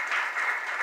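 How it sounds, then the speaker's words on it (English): Round of applause for a presenter named Bernard at an academic research conference session, a steady wash of many hands clapping throughout, moderately loud and unbroken, with no voices over it. "Can we have a round of applause to Bernard?"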